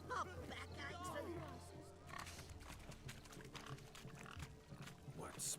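Pigs oink and grunt in The Witcher 3: Wild Hunt, Heart of Stone, a cluster of snorting grunts under ongoing game speech and ambient sound.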